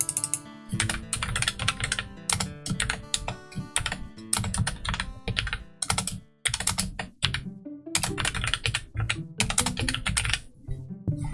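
Rapid, uneven clatter of keys being typed on a computer keyboard, close and clear, with short pauses between bursts of keystrokes, while text is entered in Adobe Illustrator for an infographic.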